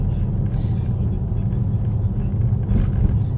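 A Tesla Model 3 drives on an icy winter road, giving a steady low rumble of tires and road noise heard from inside the car. It carries on evenly with no clear talk.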